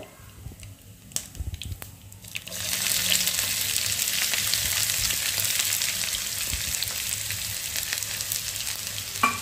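Chopped onion dropped into hot oil with mustard seeds and cumin, erupting into a loud, steady sizzle after a few stirring clinks, close and continuous with no voices.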